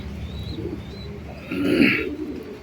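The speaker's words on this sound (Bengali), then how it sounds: "এই দুইটা কবুতর হচ্ছে আপনার বাটারা কবুতর" Two Batara pigeons coo close by, giving soft low throaty murmurs that build into a fuller, louder coo near the end, with no talk.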